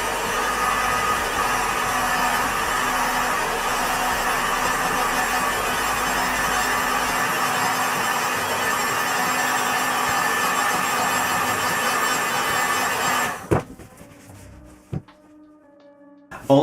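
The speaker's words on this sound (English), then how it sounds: "show you guys me using the heat gun to get the shape and look we're wanting" A heat gun blows a steady, close, loud roar of hot air while shaping Mandalorian cosplay shin armor, running unbroken for about thirteen seconds before switching off, followed by a few faint handling clicks.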